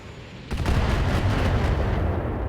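Missiles splashing into water in the BattleTech video game, a sudden heavy burst that breaks in sharply and then roars on as a loud, sustained rushing wash without any talk.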